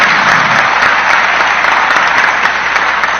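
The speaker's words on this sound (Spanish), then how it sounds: "Les pido por favor a los distinguidos y respetables presentes un fuerte voto de aplausos" Loud, dense applause from an audience at a formal lecture ceremony, steady and sustained throughout without pause.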